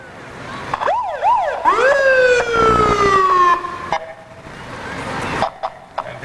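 Penfield Volunteer Ambulance siren during a Fourth of July parade, rising and falling wails then a long sliding tone as the vehicle passes close, loud with engine rumble beneath.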